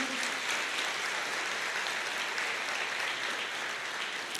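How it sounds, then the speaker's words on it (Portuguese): A church congregation applauds in a dense, continuous wash of clapping, steady and even from start to finish, at moderate volume with no other sound on top. "vamos aplaudir ao Senhor."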